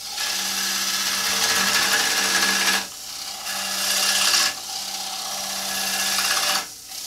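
A gouge cuts a wooden bowl spinning on an electric lathe, making a loud rasping, scraping hiss in three long sustained passes with short quieter breaks between them.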